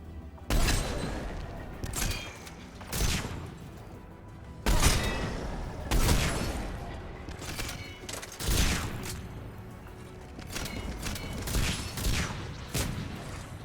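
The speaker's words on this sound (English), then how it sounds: "Короче, понятно, надо в них стрелять" Gunfire from shooting enemies in the video game Mass Effect 3 sounds as a series of sharp, fairly quiet shots and short bursts, spaced unevenly over several seconds against a low background.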